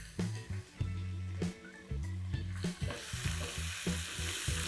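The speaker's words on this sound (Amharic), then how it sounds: "ቀይ ሽንኩርቱን ባሮ ሽንኩርቱን እንደዚህ በሰል እናደርገዋለን።" Onions and leeks frying in a pan while stirred, with sizzling that grows brighter toward the end under a melodic background tune.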